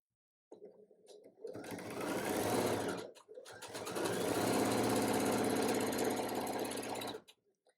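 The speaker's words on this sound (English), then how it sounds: "I'm going to sew together these first 2 blocks from the top of this Dogwood Blossoms unit" A sewing machine stitches two Dogwood Blossoms quilt blocks together, its motor running in two long, steady bursts of rapid needle clatter separated by a brief pause, close and fairly loud, with no talking.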